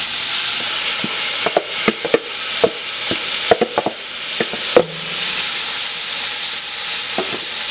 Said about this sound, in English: I'm about to add my onions.